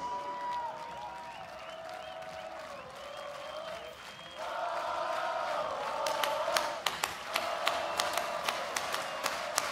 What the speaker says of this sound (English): I would like you to clap along with me,